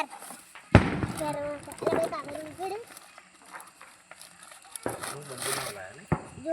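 Diwali firecrackers burst in sharp, loud bangs, one early and others spaced later, with crackling between, while several people talk and call out nearby throughout.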